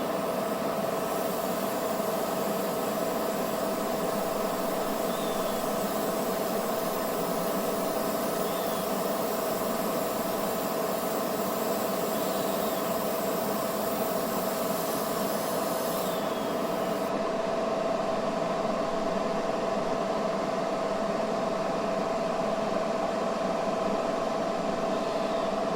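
A long, steady airbrush-style spray hiss while a Revell VW Samba bus scale model is painted, continuous and close over a constant mechanical drone and tonal hum, with the upper hiss cutting off partway through.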